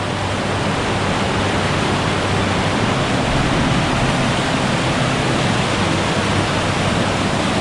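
A monsoon waterfall pours with strong pressure, a dense, loud, unbroken roar of falling water filling the whole stretch at close range.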